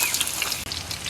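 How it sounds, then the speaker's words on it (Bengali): Chopped onion and garlic fry in oil in a wok, giving a short, soft, continuous sizzle with no one speaking. "কড়াইতে তেল দিয়ে দিলাম"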